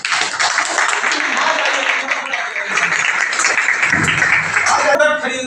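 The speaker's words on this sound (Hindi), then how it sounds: "आप लोगों की जबरदस्त तालियां होनी चाहिए।" Audience at an IMC business seminar in India breaks into sustained, dense applause, loud and continuous for several seconds.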